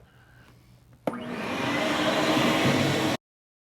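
A vacuum cleaner switches on abruptly and runs with a loud, steady rushing roar for about two seconds, clearing fallen seed debris from the trough of a mobile seed cleaner, then cuts off sharply.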